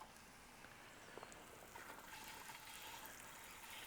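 Water running through a newly reconnected pipe just after the supply is turned on, a faint, steady trickling flow with light gurgles from air bubbles, heard alone without talk.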